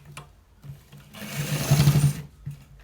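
Sewing machine stitching a designer shirt collar, with a longer steady run of needle stitching after a few short bursts, close and fairly loud with no talk.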